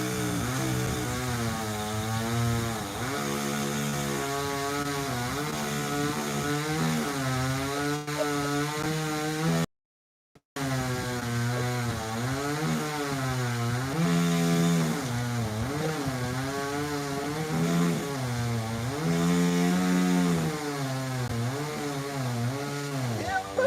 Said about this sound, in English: We got a chainsaw that's running